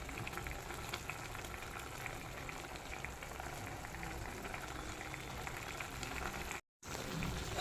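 Liver simmers in water in a pan, giving a continuous soft bubbling and hissing that stays even throughout, broken by a brief cut near the end.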